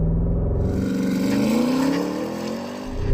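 Porsche Cayenne Turbo GT with an 8-speed automatic, launched hard with launch control; a loud, close engine roar climbs steeply in pitch through a gear, then dips briefly before surging again.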